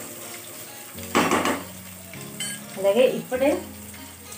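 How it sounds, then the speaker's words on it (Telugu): Ivy gourd pieces frying in oil in a pan, bursts of sizzle and stirring scrapes rising and falling while a person speaks briefly. "ఇవన్నీ కూడా ఆయిల్ మంచిగా ఫ్రై, లైట్ గోల్డెన్ కలర్ వచ్చేంత వరకు మనం ఇవి ఫ్రై చేసుకుంటాం"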